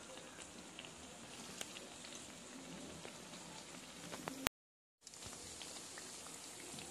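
Potato smileys frying in hot oil give off a faint, steady crackling sizzle with small scattered pops. The sound stops suddenly for a moment and then comes back.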